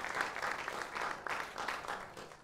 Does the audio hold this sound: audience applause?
yes